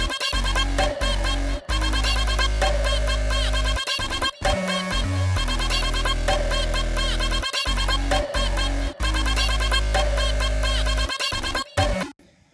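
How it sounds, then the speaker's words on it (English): A fresh snare in a hip-hop beat cracks on a steady groove alongside booming bass and a melodic loop, the full mix loud and continuous, with brief dropouts between phrases. "And then you have a new snare"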